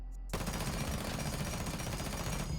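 Sustained automatic rifle fire with a compensator in Rainbow Six Siege, a loud continuous close burst starting after a brief quiet moment and running steadily for over two seconds.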